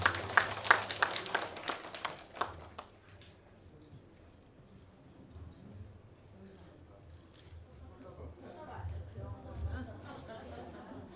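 An audience at a national folk song contest's year-end award ceremony claps loudly for a few seconds, then the applause thins out as talk continues in the hall.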